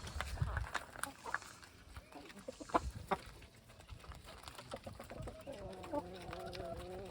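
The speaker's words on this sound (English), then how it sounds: "We'll see what the chickens think of you." Chickens clucking in a backyard garden, scattered soft clucks and short calls near and far mixed with footsteps and movement, while a person talks in between.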